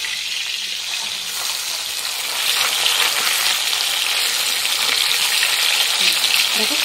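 Small fish sizzle steadily in hot oil in a pan, a continuous bright crackling hiss that grows slightly louder partway through and stays close and even throughout.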